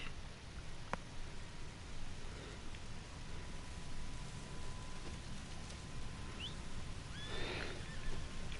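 A horse in Red Dead Redemption 2 lets out a whinny late on, over steady rain pattering on surfaces and faint hoof clops, the whole scene quiet and somewhat distant.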